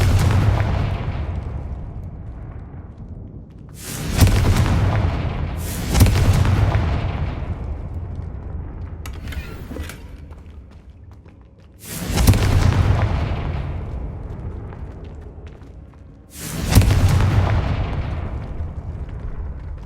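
Confringo fire spells burst in Hogwarts Legacy, five loud, deep booms each decaying into a rumbling tail, spaced several seconds apart, with no talking.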